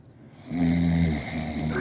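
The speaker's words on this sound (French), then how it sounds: "Regardez comment un enfant ronfle comme un caterpillar." A child snores in one long, rasping, throaty breath, loud and close, with a faint intake before it and nothing else around.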